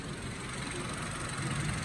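A Honda car engine with a single overhead camshaft runs at a steady idle, giving a dense, even mechanical hum heard up close with no talking.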